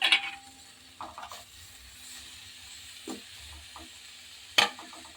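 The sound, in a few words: paneer being stirred and sizzling in masala in a pan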